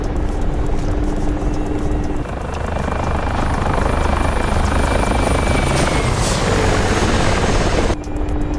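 An Apache attack helicopter in a video game, a loud continuous rotor thrum with a whining turbine tone that rises and shifts, close and dominant throughout.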